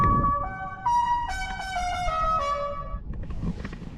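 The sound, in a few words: Tesla Model Y Boombox replacement horn sound played outside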